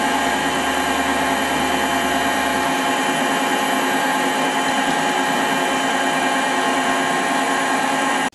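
A drill bores steadily through metal for an ER32 collet adapter on a dividing head setup, giving a continuous loud whirring grind that runs unbroken until an abrupt stop at the very end.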